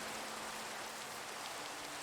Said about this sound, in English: really would like it to stop raining